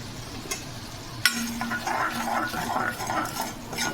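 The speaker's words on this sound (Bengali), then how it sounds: "ভালোভাবে মশলাটা কষিয়ে নেব" Spices including Kashmiri chili powder, salt and turmeric fry in a pan for tengra fish curry while a spoon stirs them, producing a soft sizzle with occasional metallic clinks and scrapes.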